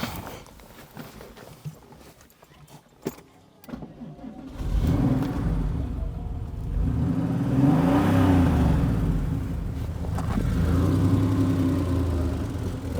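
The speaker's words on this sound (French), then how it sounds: "c'est un moteur toujours à air, hein, ce qu'on appelait un moteur à plat à air, comme les vieilles Porsche" An old air-cooled flat engine in a car cranks and catches after a few clicks and a short pause, then settles into a steady idle with revs rising and falling, loud and close, with no talking over it.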